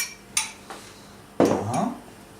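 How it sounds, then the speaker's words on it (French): A metal frying pan clanks down onto a stovetop to heat, with a couple of light clinks followed by a louder, ringing pan knock close by. "je vais mettre à chauffer une poêle"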